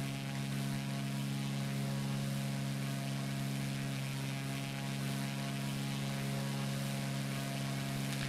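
Steady, loud drone of a Cessna Cardinal C177 single propeller engine climbing in the X-Plane flight simulator, a constant tonal hum running unbroken with no talk.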